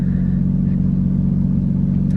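A BMW F80 M3 running a Bootmod3 Stage 2 tune sits at a steady idle. The low, even engine rumble is close and loud, with no revving, and nobody talks over it.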